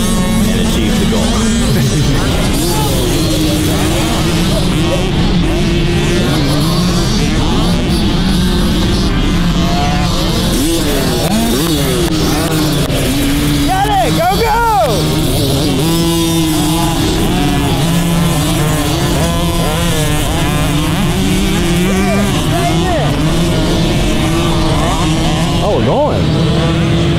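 Motocross bikes lapping a practice track at the Reeds Kings Cup race weekend, a continuous loud engine drone with rising and falling revs as bikes pass, people talking over it throughout.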